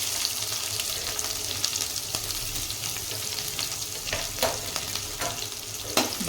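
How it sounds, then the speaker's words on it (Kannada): Sliced onion frying with curry leaves in a pan for okra fry, a continuous bright sizzle with a few sharp spoon scrapes and stirs, close up and without talk. "ಇದು ಚೆನ್ನಾಗಿ ಸ್ವಲ್ಪ ಫ್ರೈ ಆಗಲಿ"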